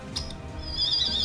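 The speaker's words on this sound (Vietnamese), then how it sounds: "đây là tiếng con trường hương và tất cả các loại tiếng chim chồn" A recorded civet call played back as a hunting lure, a thin high whistling cry that rises and wavers over a low background hum, heard once briefly and then held longer.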